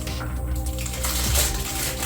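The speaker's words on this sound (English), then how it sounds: "let's get this guy out of the cardboard here" A Wi-Fi smart switch with RF remote is pulled from its cardboard box, giving close, continuous crinkling and scraping of cardboard and packaging for about two seconds with no talking.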